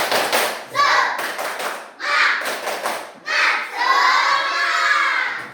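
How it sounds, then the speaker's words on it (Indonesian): Children in a classroom doing a rhythmic spirit clap, bursts of unison claps and thuds in patterned groups, mixed with children's shouting and chanting voices. "Tepuk semangat"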